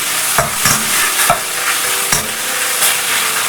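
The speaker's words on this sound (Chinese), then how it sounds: "像视频中这样不停地翻炒，把鸡胸肉的水分炒干" Chicken breast stir-fries in hot oil in a wok, a steady loud sizzle broken by repeated scraping clatters of the spatula as the meat is tossed, with no voices.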